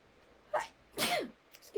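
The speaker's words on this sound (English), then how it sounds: "And I'm going to sneeze." A single person sneezes close by: a short sharp intake, then a loud explosive burst, in a quiet room with no other sound.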